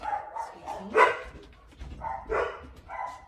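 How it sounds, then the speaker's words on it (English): A dog barks a few times in short bursts at moderate distance, with brief gaps between the barks. "My dogs hopefully will stop barking soon."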